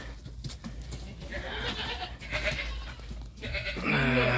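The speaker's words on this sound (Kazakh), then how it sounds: "Нубийский ешкі. Жап-жас әдемі ешкі. Екі лағымен бұл." A young Nubian nanny goat with two suckling kids bleats nearby in a pen, with several wavering bleats rising toward the end over low background noise and soft animal movement.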